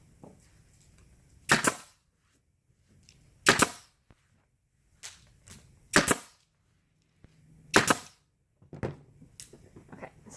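Nail gun firing nails into a DIY mat while it is being put together, four sharp, loud bangs spaced about two seconds apart with a few fainter knocks in between, no voices.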